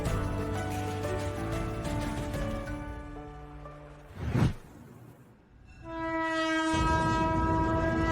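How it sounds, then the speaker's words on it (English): A China-Europe freight train rolls past with a loud sustained horn blast that cuts off, followed by a brief whoosh and another long, chord-like horn as the train continues nearby. "the first Jinbo China-Europe freight train arrived in Shanghai from Germany"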